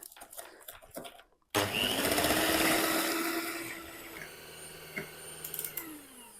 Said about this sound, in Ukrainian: Ось до такої білої маси взбиваємо яйця.